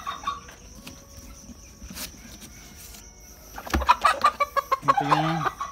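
An Ameraucana pullet clucks while being handled during a pre-delivery quality check, faint background noise giving way to a loud, close run of rhythmic clucks near the end.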